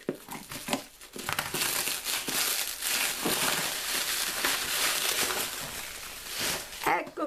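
Cardboard box being opened with plastic packaging crinkling and crumpling almost continuously, close and fairly loud, with occasional sharper rustles and a few muffled handling knocks.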